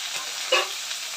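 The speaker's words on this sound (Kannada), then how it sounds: "ಇವಾಗ ಅದನ್ನು ನೀವು ಚೆನ್ನಾಗಿ ಎಣ್ಣೆಲಿ ಹುರಿಬೇಕು ಸ್ನೇಹಿತರೆ" Onion, chilies and curry leaves fry in oil for a greens sambar, a short, close hissing sizzle with a brief louder spatter in the middle.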